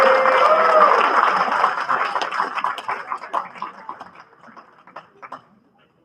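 Audience applause at a state convention of the National Federation of the Blind of New Jersey, loud and dense at first, then thinning into scattered claps and fading out.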